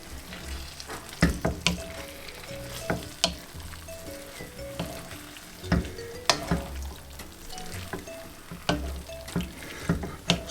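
Stir-fry noodles and sweet and sour chicken sizzle in a pan, a constant frying hiss broken by repeated scraping, tossing knocks as the food is stirred, close and clear.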